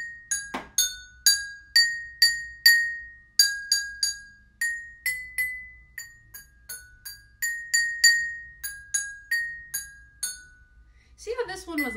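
Glass jars filled with different water levels are struck one after another, ringing out a simple tune of clear, bright chiming notes at varying pitches, each tap decaying quickly, with a brief clatter at the end.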